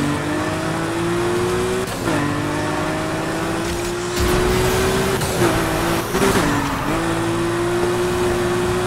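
Racing car engine in Need for Speed Heat, revving hard and climbing through gears with brief dips at each shift, loud and close with some tire noise, no talk.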